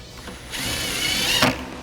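A socket wrench tightening a flange nut on a 2021-2023 Ford F-150 headlight mount, a short close burst of ratcheting clicks with no talk.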